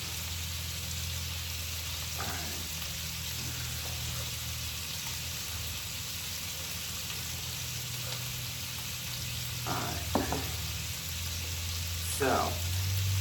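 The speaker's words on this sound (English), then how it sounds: "while the meat is searing that second side" Beef roast searing in a hot pan for a French beef roast, a steady crackling sizzle throughout, with a few short clatters of utensils and brief louder bursts near the end.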